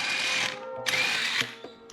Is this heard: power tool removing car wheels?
yes